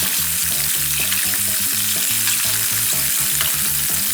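Roast beef frying in a tilted pan while hot oil is spooned over it, giving a steady, close sizzle beneath low, rhythmic background music.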